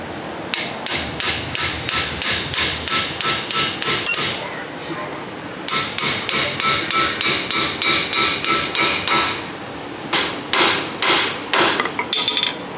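A cut-down line wrench is hammered onto a mostly rounded castle nut in loud, close, rapid metal blows that come in long rhythmic bursts, broken by short pauses.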